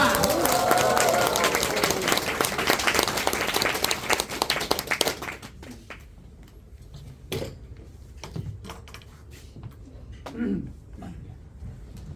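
A crowd at a crypto seminar gives loud applause as the chairman is welcomed on stage, dense clapping for about five seconds that quickly thins into scattered claps and shuffling before a voice begins speaking.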